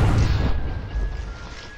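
A warship cannon in the From the Depths naval combat game fires with a loud, heavy boom at the start, which then rolls off into a rumbling decay.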